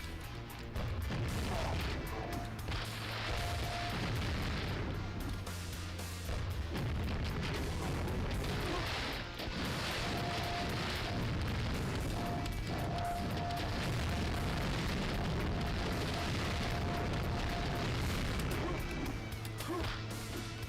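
Grenade launcher shots and heavy explosions in the MS-DOS game Quake, with repeated booms and crashes over a dense rumbling game soundtrack that runs throughout at moderate level.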